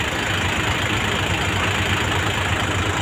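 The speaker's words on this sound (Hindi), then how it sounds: "एक ट्रैक्टर वो आ रहा, देखो" A Mahindra 585 tractor engine runs steadily and loudly close by, a continuous low diesel rumble with a knocking pulse that holds level throughout without pauses.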